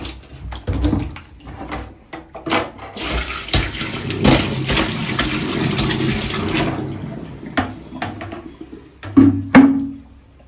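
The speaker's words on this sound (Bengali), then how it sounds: "এবারে ঝুড়িটার মধ্যে আমি ঢালবো।" Water and live koi fish tipped into a basket, a splashy rush of pouring water with scattered flapping splashes and thuds, close and fairly loud, no talk.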